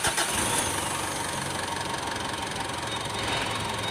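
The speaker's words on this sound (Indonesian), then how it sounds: "ya sudah hidup, sudah normal, nyalanya stasioner stabil, tidak ada suara yang aneh di mesinnya" Mitsubishi Pajero Sport engine idling steadily and evenly after a new cylinder head was fitted, loud and close with a constant mechanical hum and no interruptions.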